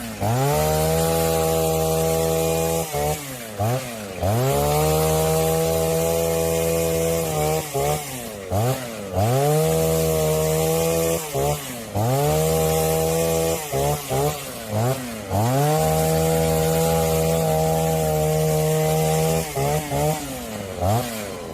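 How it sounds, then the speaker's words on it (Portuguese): A gasoline brush cutter works a farm plot, clearing growth and opening a planting row: a loud, near engine drone that revs up and drops back repeatedly in bursts, with short gaps of idle between cuts. "A roçadeira agora faz de tudo na roça, viu? Até leira ela agora abre."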